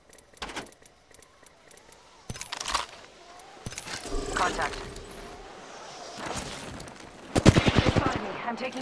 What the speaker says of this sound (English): Shots. Firing.